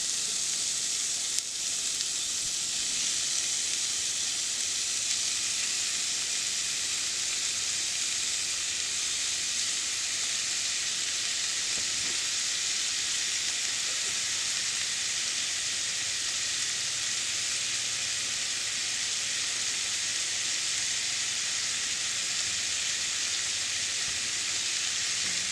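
Two pounds of 80-20 ground beef fry in a cast iron skillet, giving off a steady, even sizzle that hisses on without a break and without any talking.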